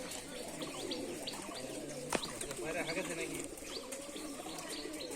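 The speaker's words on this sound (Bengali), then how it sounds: "এই দেখুন অনেক দুনিয়ার পায়রা।" Pigeons coo steadily on a rooftop in Rajshahi, with repeated chirps and soft calls from a flock perched in a row, plus a sharp tap partway through and faint background voices.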